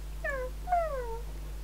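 Two short cat meows from a Roblox game come one after the other, clear but fairly quiet over a steady low electrical hum.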